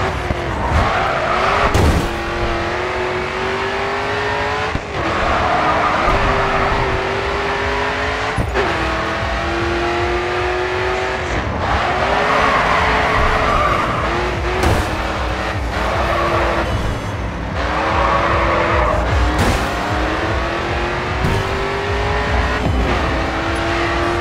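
Race cars in the driving game Grid 2 roar continuously with rising and falling engine pitch through gear changes, punctuated by repeated tire squeals and skids, loud and steady throughout.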